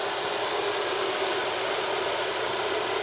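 Small table top spray booth fan running steadily, a loud, even broadband whoosh of rushing air that holds constant throughout with no talking.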